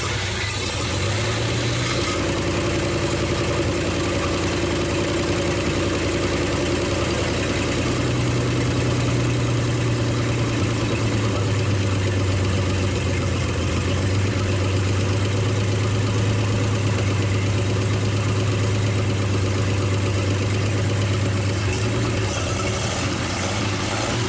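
A 1957 Chevy engine, run for the first time in years, idles steadily with a deep, even rumble. Its note shifts slightly early on and then settles into a constant close drone.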